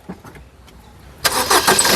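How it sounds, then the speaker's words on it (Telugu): A quiet pause with faint clicks, then a car engine cranks and roars to life, settling into a loud, steady run up close. "ఒకసారి ఇంజన్ స్టార్ట్ చేయి"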